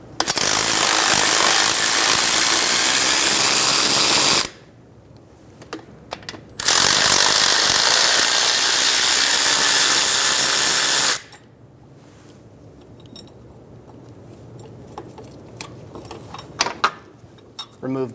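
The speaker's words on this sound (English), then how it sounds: "Using a 13mm socket, remove the 2 nuts" Two nuts being removed with a 13mm socket while replacing the front CV joint boots on a 2000-2007 Ford Focus, with loud bursts of power-tool whirring separated by quieter clicks and metallic handling sounds.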